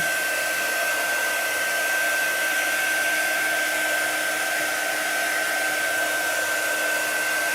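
A hair dryer blows on a chalk transfer project, giving an even, loud whir with a steady high whine that holds unchanged from start to finish.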